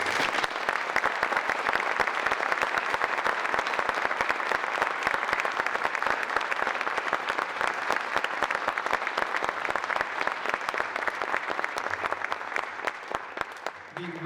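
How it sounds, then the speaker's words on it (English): An audience at a Hall of Fame induction ceremony for Saline area schools gives seven inductees a long, even round of applause, dense clapping that holds steady and thins slightly near the end. "give these 7 outstanding individuals one last round of applause"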